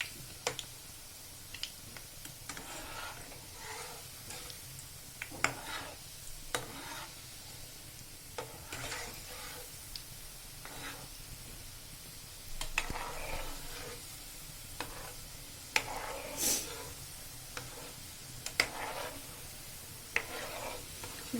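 Gulab jamun fry in a generous amount of oil, giving a quiet, steady sizzle punctuated by scattered soft ticks and pops from the pan, with no talking.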